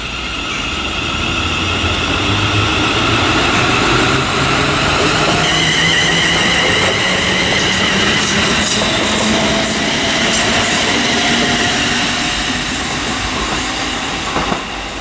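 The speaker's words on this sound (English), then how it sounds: "now departing is the 10:26 ScotRail service from Wemyss Bay to Glasgow Central." A ScotRail class 380 electric train departs Wemyss Bay for Glasgow Central, its motors whining up in rising tones as it accelerates over a steady, loud rumble and faint rhythmic clatter of wheels on rail.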